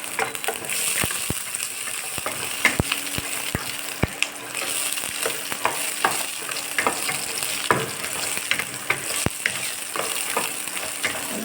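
Halved small onions sauté in a pan for a Tamil drumstick-leaf kuzhambu, giving a soft steady sizzle broken by sharp scattered clicks and scrapes of stirring close by.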